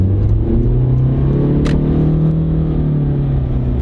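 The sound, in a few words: Honda car with CVT transmission accelerating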